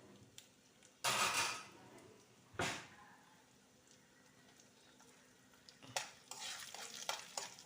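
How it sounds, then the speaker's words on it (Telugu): Spices crackle and sizzle in hot oil while a spoon scrapes and stirs the pan, bursts of frying coming and going up close. "వేసుకుని ఈ విధంగా కలుపుకోవాలన్నమాట. అదంతా కూడా ఫ్రై అవ్వాలి, తాలింపు అంతా కూడా."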